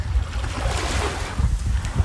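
Surf and wind at a beach, a steady broadband wash with low rumbling gusts buffeting the microphone throughout, no voices.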